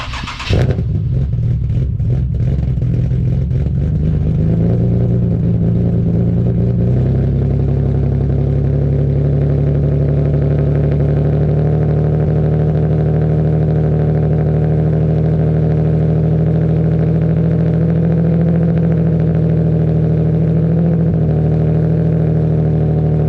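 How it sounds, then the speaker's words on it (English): A car starting up for a test drive, its engine catching with a brief burst, then a loud, steady, close drone that holds through a rise in revs. "Time to go for a test drive, see how it is."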